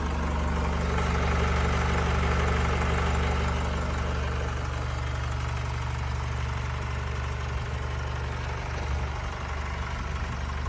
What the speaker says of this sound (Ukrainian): Моторчик працює у нас добре. Давайте послухаємо.